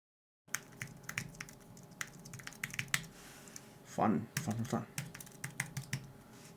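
Typing on an Apple Magic Keyboard 2 in Space Gray, a steady patter of soft close key clicks with a brief spoken word partway through.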